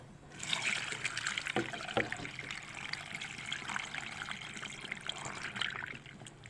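Salt brine is poured into a jar of fermented tomatoes, a soft, continuous trickle and splash of liquid heard close up and fairly quiet, with no talk.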